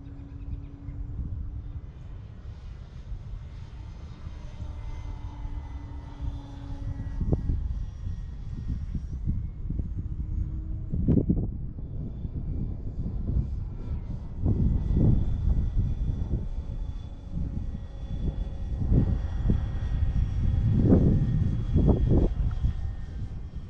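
E-Flite Clipped Wing Cub RC airplane flying at about two-thirds throttle on a brisk, cloudy, windy day, a steady buzzing electric propeller drone that rises and fades as it passes, with gusts of wind buffeting the microphone, no talking.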